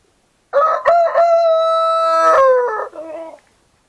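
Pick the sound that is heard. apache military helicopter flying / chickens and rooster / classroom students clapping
chickens and rooster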